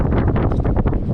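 Strong wind buffets a microphone aboard a boat on a fishing trip off Sedili, a close, steady roaring rush with gusty swells and no voices.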